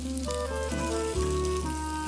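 Green beans sizzle in a pan over high heat, a loud, continuous crackling hiss with a low steady hum underneath and no talking.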